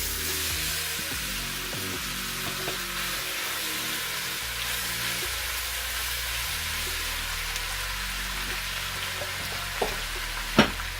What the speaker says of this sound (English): so just searing it a little, and not a lot of oil